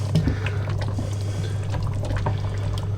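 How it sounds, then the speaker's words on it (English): Lamb and spinach curry at a rapid simmer in a pot, bubbling and reducing steadily with a continuous close, even liquid burble and no talk. "So we bring it up to the boil and then turn it to a simmer, quite a rapid simmer"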